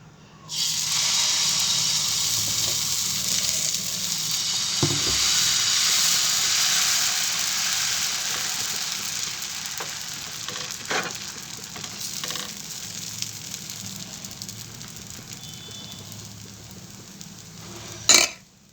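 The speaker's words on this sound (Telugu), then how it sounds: "ఇప్పుడు దోశ వేసేసుకుందాం" Dosa batter sizzles on a hot pan in a bright, steady hiss that slowly eases off, with occasional scraping and tapping sounds scattered through.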